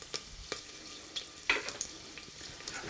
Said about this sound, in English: just let those sizzle a little bit